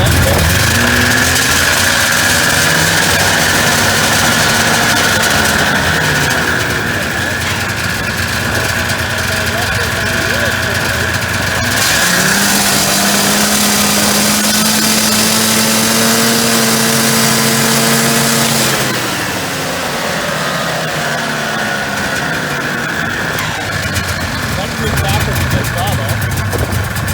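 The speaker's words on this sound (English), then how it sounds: "the faster I rev up the engine," A snowmobile engine with a CVT transmission revs while the machine sits up on a jack stand, a loud, steady mechanical drone that climbs and falls in pitch as the throttle changes, with one sustained higher rev in the middle.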